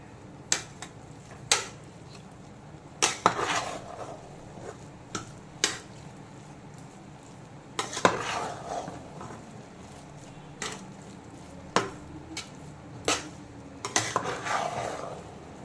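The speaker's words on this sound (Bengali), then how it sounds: "তো এখন খুলে একটু নাড়াচাড়া করে দেবো চালটাকে।" Rice being stirred in a pot for basanti pulao: sharp, scattered clinks of a spoon against the metal rim between softer scraping and rustling of grains, close and unhurried with pauses.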